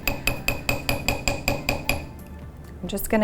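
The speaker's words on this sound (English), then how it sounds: "I'm going to take my bench block and my chasing hammer." A small dome chasing hammer strikes a steel bench block about eight times in a quick, even rhythm while making jewelry, each blow ringing bright and close, then stops as something clatters.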